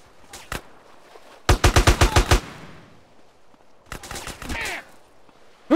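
Bursts of AK automatic gunfire in the video game GTA: San Andreas: a few sharp shots, then a loud rapid burst of about seven rounds, and after a pause another quicker, fainter volley.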